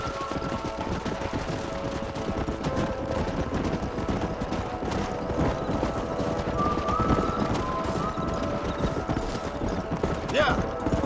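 Horses clip-clop at a trot in the video game Red Dead Redemption, a steady hoof rhythm running throughout under game ambience with some sharper cracks near the end.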